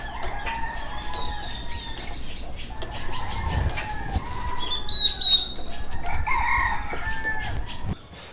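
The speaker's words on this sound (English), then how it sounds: "So there's a chicken on my..." Chickens on the island of Utila, Honduras, heard outdoors: a rooster crows clearly around the middle, with clucking and other bird calls over steady ambient background noise.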